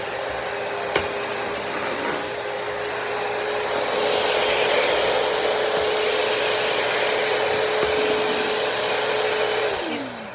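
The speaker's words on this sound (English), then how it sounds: "So here's the vacuum." A Shark VM252 VACMOP Pro cordless vacuum mop runs with a steady, close whirring drone for about ten seconds, rising slightly in the middle before it winds down at the end, with no talking.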